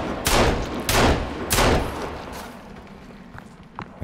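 Three loud, closely spaced gunshots ring out in a shooter video game, each a sharp burst with a short tail, followed by a quieter stretch with faint clicks.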